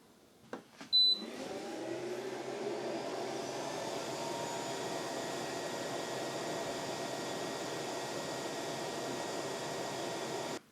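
An xTool F1 infrared laser engraver runs at 1000 mm/s, starting with a couple of sharp clicks before a steady, loud whir of fan and motor noise holds evenly to the end with no talk.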